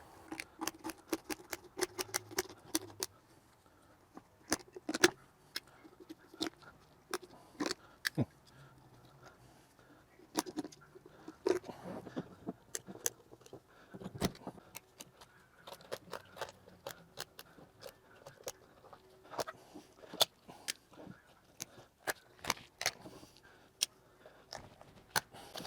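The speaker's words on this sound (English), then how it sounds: "all you want to do is just run these scissors right down the backbone" Kitchen scissors snip and crunch through the backbone of a turkey being spatchcocked. Sharp, close clicks and cracking bites come in uneven bursts over about twenty-five quiet seconds, with no talking.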